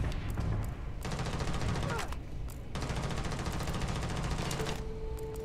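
The Maelstrom heavy machine gun firing in Starfield, long rapid bursts of automatic fire with short pauses between them, dense and sustained.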